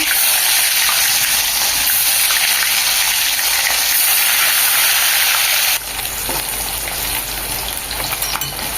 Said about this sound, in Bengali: আবারও তেলের মধ্যে মাছ দিয়ে দেবো।